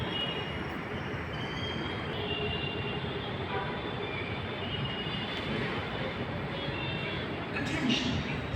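A metro train rumbles steadily at Madhuranagar metro station, a continuous broad roar that swells slightly near the end, heard close and fairly loud with no talk over it.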